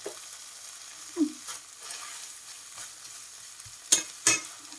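Pad thai with fresh shrimp is stir-fried in a pan, with scattered scrapes and clinks of a utensil over a quiet background sizzle and two sharper metallic scrapes near the end.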